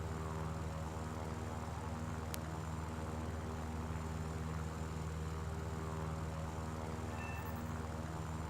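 Droning airplane engine from the War Thunder video game on PS4, a steady propeller hum with a constant tone throughout, heard alone without speech.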